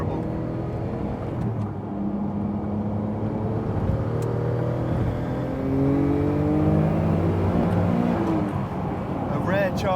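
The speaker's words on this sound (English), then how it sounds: "Chance for pretty much full throttle there." A Noble M12 GTO3R on a rough road at nearly full throttle: a continuous engine drone rises and falls through gears from inside the car, with someone talking over it.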